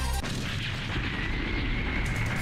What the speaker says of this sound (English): Fast explosion for the win.